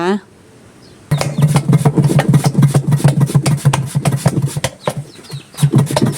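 Peeled wild yam (kloi) is sliced thin on a bamboo shoot slicer, producing rapid, regular scraping strokes close by. A person talks over most of the slicing.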